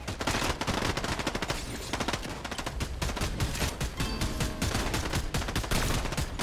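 Dense, rapid gunfire from Fortnite played in Zero Build duos mode on Xbox Series S, with shots and bursts overlapping almost continuously, loud and close, and no talk.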